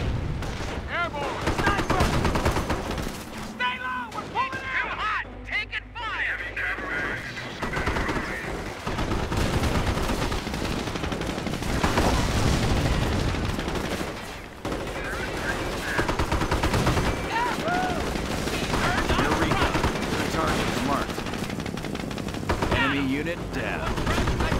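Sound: gunfire in video game Company of Heroes

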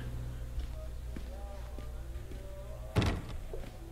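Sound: door closing in The Park video game

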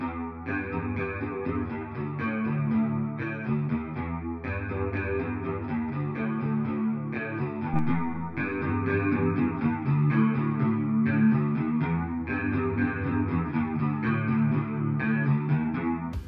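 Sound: clean electric guitar with chorus and reverb

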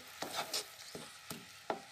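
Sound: mashing cooked apple pieces for jam

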